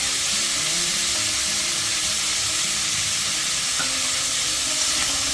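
Winter vegetables for vegetable khichdi frying in a pan, a loud continuous close sizzle and hiss with an occasional faint scrape of stirring, no voices.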